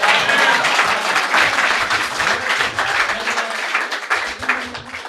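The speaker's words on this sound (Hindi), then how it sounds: "ऐसे ही तालियां लास्ट तक बजती रहनी चाहिए" A poetry performance audience claps in loud, dense, sustained applause that fills the room evenly from start to finish with no break.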